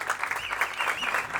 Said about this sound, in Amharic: አንድ ሞቅ ያለ ጭብጨባ ለሱ